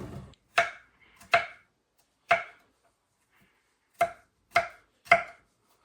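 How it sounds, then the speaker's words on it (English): A knife slices Baby Bella mushrooms on a cutting board, six sharp separate thuds spaced irregularly in otherwise quiet surroundings, close and clear with no voices. "We're using Baby Bella here. You're going to slice those up"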